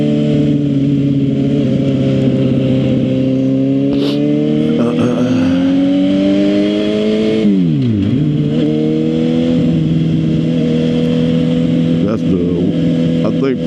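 Suzuki GSX-R 750 sportbike ridden through crowded city traffic, a steady engine drone with rising and falling revs as it accelerates and shifts, mixed with wind and road noise and some talking over it.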